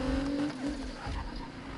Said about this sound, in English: Listen to that turbo.